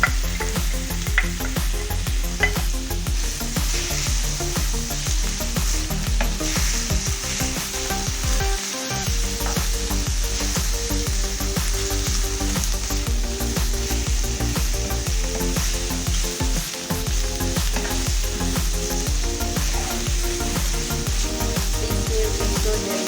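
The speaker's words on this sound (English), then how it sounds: "Bacon and then you fry until golden brown." Bacon and potatoes fry loudly and continuously in a pan until golden brown, a dense steady sizzle with stirring clatter throughout and a few brief dropouts.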